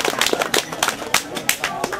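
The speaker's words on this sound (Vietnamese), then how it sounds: "vỗ tay" Quick, uneven hand clapping by several people in a Montagnard village gathering, close and fairly loud, with voices mixed in.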